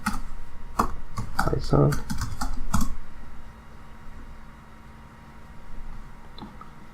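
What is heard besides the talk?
typing on a computer keyboard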